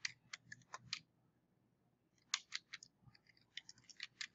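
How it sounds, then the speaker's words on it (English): Quiet bursts of computer keyboard typing, crisp clustered key clicks with a short pause midway, close and soft with no voices. "I'm going to start typing"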